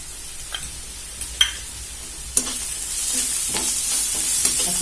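Stir-frying in a pan just after salt and turmeric go in: a loud, steady sizzle punctuated by several crisp clicks and scrapes of the spoon against the pan, growing slightly fuller toward the end, with no talking.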